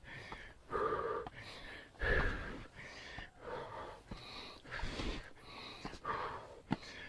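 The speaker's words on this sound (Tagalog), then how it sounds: "Talagang hingal na hingal." Heavy, ragged panting follows a climb up to a hillside station, with close, rhythmic gasping breaths, some wheezy, coming every second or so and no talking.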